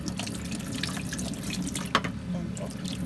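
Tap water runs steadily into a kitchen sink while chicken pieces are washed, with a soft continuous splash and one brief sharp clink partway through.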